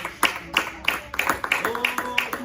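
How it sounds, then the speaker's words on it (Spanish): Church worship congregation clapping in unison, about eight evenly spaced sharp claps keeping a brisk beat, with faint voices underneath. "Dale un fuerte aplauso al Señor"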